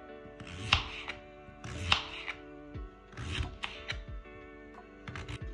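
A knife chops carrots on a board in a kitchen, three short clusters of crisp cuts close by with quiet gaps between, no voices.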